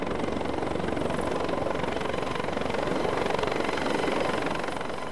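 The London air ambulance helicopter hovers nearby, its rotor and engine producing a loud, continuous throbbing roar that holds steady throughout, with no talk.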